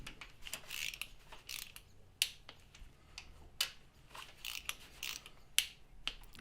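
A ratchet torques the cylinder head bolts on a Honda CR-V's 2-litre K20 A4 engine, giving close, sharp clicks in irregular bursts with brief pauses between strokes.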